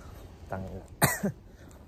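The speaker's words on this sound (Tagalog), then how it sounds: "Malamig dito, inuubo ako" Two short, sharp coughs close to the microphone, the first softer and the second louder, with a quiet outdoor background and no speech.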